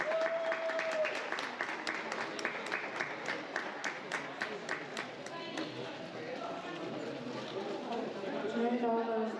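Crowd applause for the winners at a fin swimming sprint competition, steady dense clapping throughout, loud and continuous, with voices mixed in underneath.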